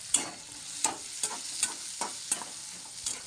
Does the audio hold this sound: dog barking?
no